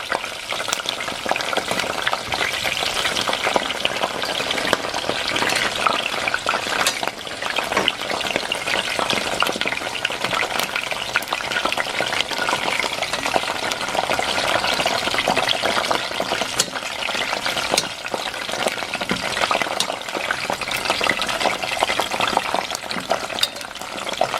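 Yellow banana peppers (chile güero) fry in a hot pan, giving a dense, continuous crackling sizzle that stays loud and close for the whole stretch, with no voices.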